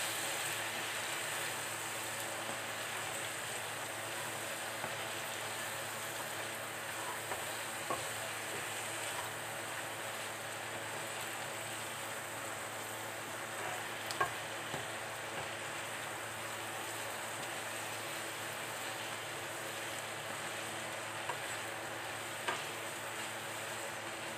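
Beans fry gently in a pan with a faint, even sizzle that holds for the whole stretch, broken now and then by soft ticks and light stirring scrapes.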